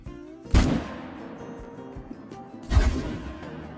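A rifle shot at a whitetail deer in the Call of the Wild hunting game cracks out sharply, followed by a second, similar shot about two seconds later, each with a short rumbling tail.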